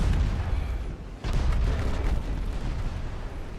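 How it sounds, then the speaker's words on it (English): Torpedo launches in Ultimate Admiral Dreadnoughts, a heavy rumbling naval battle din with a dull thump and a dip before the roar resumes, steady and loud throughout. "fire some torpedoes at him."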